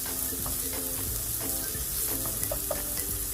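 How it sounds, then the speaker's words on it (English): Onions fry in olive oil in a pan, giving a soft, steady sizzle with light crackles and a few utensil taps, close and fairly quiet. "Into my olive oil, I'm gonna add some onions"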